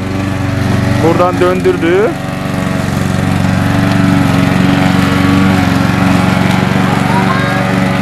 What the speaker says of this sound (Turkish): Çim biçme makinesi gidiyor